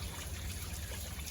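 Water trickling steadily from the pump drain of an International fire truck with a Detroit Diesel engine, a soft continuous dribble heard close by and alone.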